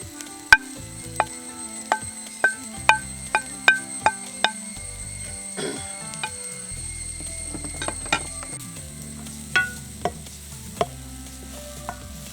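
Okra frying with grated coconut in a pan, heard as a low steady sizzle beneath repeated sharp clicks and scrapes of a spoon stirring against the pan, close and moderately loud, with no voices.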